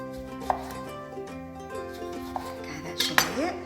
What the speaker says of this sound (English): just slicing some lemons